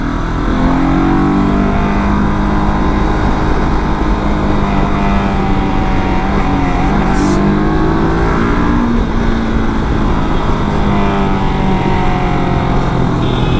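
Twin-cylinder Himalayan 400 motorcycle engine running steadily, a continuous close throaty drone with gentle pitch changes while riding, loud and unbroken.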